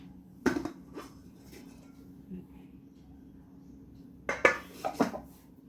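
A wok is set down on a gas stove in a home kitchen, giving a quick metallic clank early on and a second cluster of clattering knocks near the end, with quiet room noise between.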